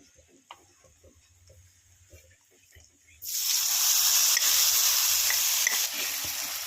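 Hot tempering poured into tomato chutney gives a sudden loud, steady sizzle that starts halfway through and holds strong to the end, after a quiet stretch of faint kitchen clatter.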